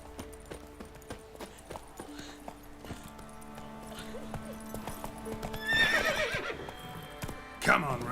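Roach, the horse from The Witcher 3 video game, gives a loud neigh near the end, preceded by steady clip-clop hooves on a game soundtrack, with background game sounds throughout.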